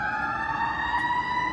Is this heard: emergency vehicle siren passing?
yes